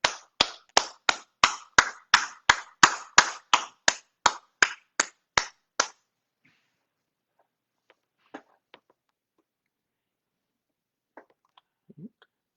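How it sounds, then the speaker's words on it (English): Award ceremony audience clapping for the varsity Lincoln-Douglas debate winners: a short run of about fifteen sharp, evenly spaced claps over six seconds, close and clear, then near silence with a few faint knocks. "A round of applause for both of them."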